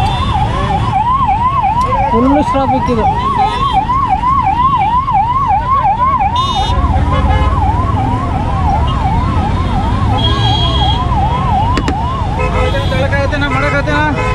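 An ambulance siren wails in a repeating rising-falling cycle through jammed traffic on Yelahanka road in Bangalore, loud and near, over engine rumble, with someone speaking briefly.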